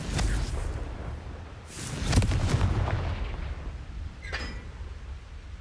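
A Confringo fire spell bursts in Hogwarts Legacy: a deep, booming blast rolls out over a loud rumbling background, followed by a second heavy burst and a sharper crack later, with no speech.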